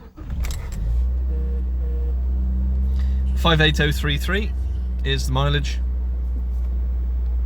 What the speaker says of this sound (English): So we'll start the car up.